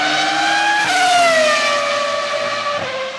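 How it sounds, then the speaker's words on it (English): A Formula 1 V10 engine screams loud and close at high revs, its sharp pitch dipping as it shifts down and slowing into a lower whine, with a faint tyre-squeal edge. "here's a nice sound of a V10 engine right now"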